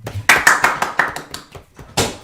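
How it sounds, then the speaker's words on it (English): A small group claps in a short, uneven round of applause, close and fairly loud, with a few distinct claps trailing after a brief pause. "Give yourself a little round of applause"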